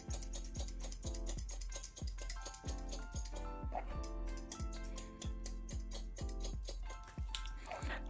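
Rapid, regular metallic snips close by from long scissors, repeating in quick succession while trimming hair with a comb in a salon haircut, with a few brief pauses.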